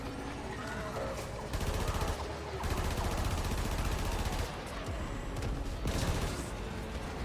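Rapid gunfire in a solo bounty mission of a shooter video game, with sustained automatic bursts and brief breaks, dense and loud throughout without speech.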